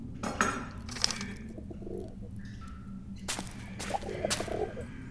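Pigeons in the video game Ad Infinitum coo in soft, rounded phrases, several birds calling intermittently over a low ambient hum, with a few sharper clicks and chirps in between.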